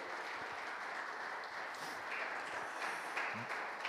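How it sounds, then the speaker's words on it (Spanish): A church congregation claps for the Lord during a Spanish-English bilingual sermon, a steady wash of hand claps filling the room at moderate level without speech. "Dele un aplauso al Señor."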